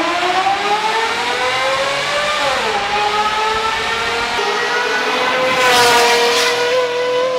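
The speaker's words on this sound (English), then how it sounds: "My black S600 that I was building equal length headers for. So it would sound like this." A Mercedes S600 with equal-length headers sends out a smooth, loud, harmonic engine note up close. It holds steady revs, dips briefly in pitch, then climbs again.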